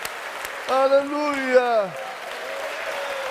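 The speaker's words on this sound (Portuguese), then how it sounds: "Aplaude o Senhor!" A church congregation at a Sunday school service claps steadily in the background while a voice loudly shouts over it in a long, sung-out exclamation.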